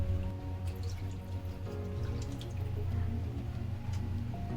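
Tamarind water pours steadily into a simmering fish curry, a continuous liquid splashing and dripping close by with no voices.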